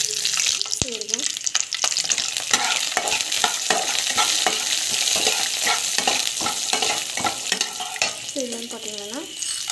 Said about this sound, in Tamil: பருப்பு, கடலைப்பருப்பு நல்லா வதங்கணும்.